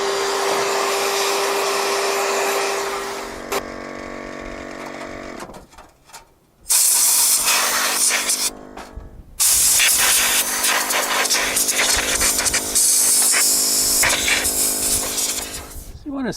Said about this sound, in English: I'm going to vacuum all that out and blow it out.